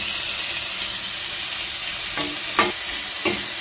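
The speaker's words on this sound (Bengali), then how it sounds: "পেঁয়াজ কুচি দেওয়ার পর আমি খুন্তি দিয়ে একটু ভালো করে নেড়েচেড়ে নিচ্ছি" Chopped onion and chicken pieces sizzle in hot oil as a spatula stirs them, with a constant frying hiss broken by a few sharp scraping strokes near the end.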